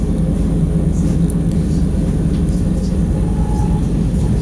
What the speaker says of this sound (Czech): tenhle ten vlak, co teďka v něm jedu, teď bude zase tunel